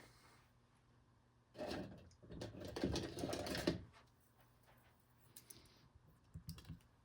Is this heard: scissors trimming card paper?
yes